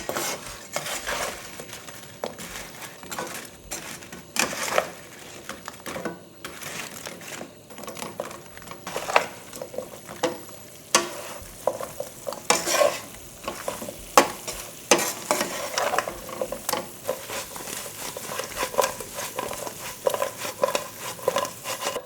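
Crunchy fried chicken is tossed in sauce in a heated pan, with continuous sizzling and frequent clattering scrapes of a utensil against the pan, busy and close throughout.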